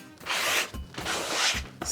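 Sandpaper scrubs across a motocross seat being made into a custom factory-style saddle, in two long, close, rasping strokes with a brief pause between them.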